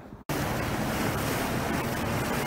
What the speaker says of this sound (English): Well, we're now motoring home.